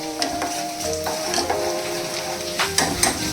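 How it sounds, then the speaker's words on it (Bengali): Cumin seeds and crushed ginger hit hot oil in a pan and sizzle with a continuous crackling hiss, punctuated by a few sharp pops and a faint clink of utensils. "এইবার গরম তেলে অল্প কটা জিরে, সামান্য একটু আদা থেতো করা"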